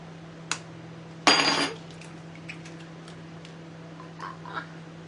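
A metal spoon is set down on a kitchen counter while kiwi tiramisu is being prepared. It gives one clear clinking knock, followed by a few faint taps over a low steady hum.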